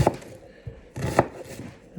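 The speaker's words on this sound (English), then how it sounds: "cut up the onion" A kitchen knife chops onion for Newfoundland salt cod fish cakes, giving a few sharp, close cuts against a board with quiet gaps between them.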